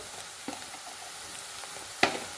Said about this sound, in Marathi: कांदा मिरची टाकून घेतलेली आहे ते छान आपल्याला परसून घ्यायची आहे